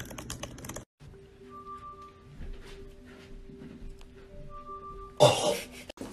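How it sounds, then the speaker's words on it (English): Random typing on a computer keyboard gives quick, irregular key clicks for several seconds, with a cough or throat-clear and a short burst of louder noise near the end. "Type randomly on the keyboard"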